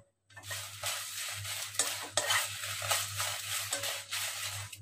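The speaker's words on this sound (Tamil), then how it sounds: "மிளகாய் நல்லா வறுபட்டுடுச்சு, எடுத்துடலாம்." Dried red chilies, including Kashmiri chilies, roast in a pan for idli podi, a dry crackling sizzle with regular scraping stirs over a steady low stove hum, close and unaccompanied by speech.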